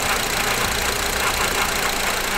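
A 2006 Honda Civic with a 1.8 liter non-VTEC engine idles close by, a steady, even running sound with a faint rhythmic pulse and no voices.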